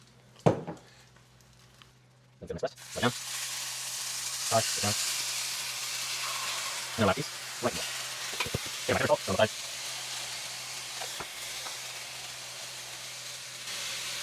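Small chicken pieces fry in hot oil, a steady close sizzle for most of the stretch with a few sharp clatters of utensils stirring; brief speech is heard near the start.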